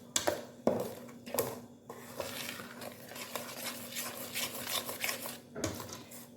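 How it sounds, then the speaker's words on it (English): Toto batter ingredients being mixed in a bowl for a Jamaican coconut cake, with a utensil scraping and clinking against the bowl in irregular strokes, close up, over a steady low hum. "you're gonna basically mix everything together"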